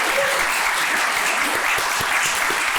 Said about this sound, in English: Finally, please give a round of applause for Terry.